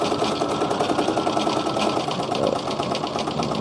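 A Brother domestic embroidery machine running, a steady fast mechanical clatter of the needle with a constant motor hum, close and continuous throughout.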